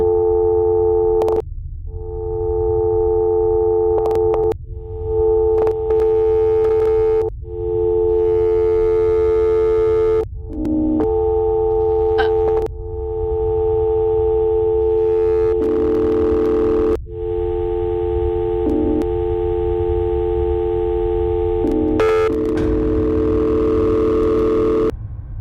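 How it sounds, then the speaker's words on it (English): A loud, steady electronic tone sounds in long repeated stretches, broken by short gaps and brief clicks, with no voices. "Why are we hearing a dial tone?"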